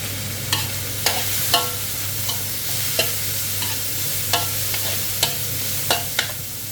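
Pork stir-fried in a hot pan with chillies and shredded kaffir lime leaves for Thai holy basil pork: a steady sizzle runs throughout, broken by regular sharp scrapes and clacks of the spatula stirring.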